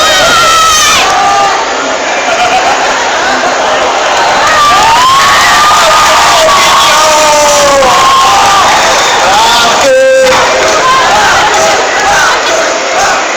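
A large crowd at a Paris manga convention shouts, screams and cheers loudly and continuously, with high-pitched whoops and cries rising above a dense roar.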